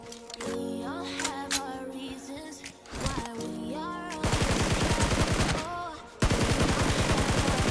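Bursts of automatic gunfire from the BGMI mobile shooter in a team deathmatch, dense rapid shots, loud and close, over game music and effects, with a heavier volley near the end.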